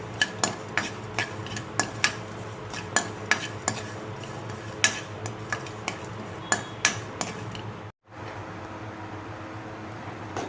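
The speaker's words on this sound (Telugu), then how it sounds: "ముందుగా నువ్వులు జీలకర్ర వేయించుకోవాలి" Sesame seeds and cumin roast in a pan while a spatula stirs them, giving regular sharp scrapes and taps over a steady, soft sizzling hiss, close and without talk.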